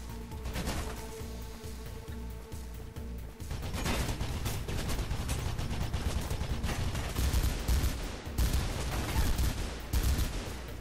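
Assault rifle fire in the Mirror's Edge video game arrives as rapid bursts of loud, sharp shots over a steady game soundtrack, growing denser and more chaotic in the later seconds.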